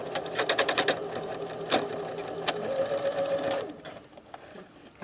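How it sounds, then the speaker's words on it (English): A sewing machine stitches in the ditch of a double welt pocket: a quick run of rhythmic mechanical clatter, a steady whirring stretch with a few louder ticks, then it stops abruptly into quiet handling noise. "sew in the ditch of the Y because of the way I pressed it"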